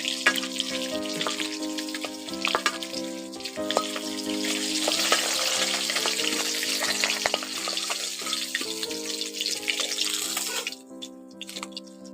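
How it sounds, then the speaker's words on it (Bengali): Katla fish pieces frying in a pan of oil, a loud, continuous bubbling sizzle with scattered crackles and spatula clinks over a steady background hum, close up, until the sizzle cuts off near the end. "বাকি মাছগুলো ওই তেলের মধ্যে দিয়ে ভালো করে ভেজে নেবা"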